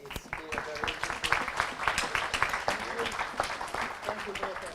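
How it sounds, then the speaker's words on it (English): A conference audience applauds panelists, a steady dense burst of clapping throughout with no pause. "give them a well-deserved round of applause"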